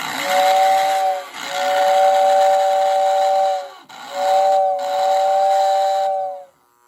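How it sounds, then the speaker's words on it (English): A shrill model train steam whistle toots in several long blasts with short breaks, loud and close, with a hissy edge, ending abruptly. "Here's the whistle on it."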